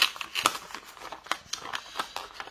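Paper cash being slipped into paper envelopes, quick crinkling and rustling bursts with small snaps of handled paper, close and moderately loud, in a brisk irregular rhythm without speech.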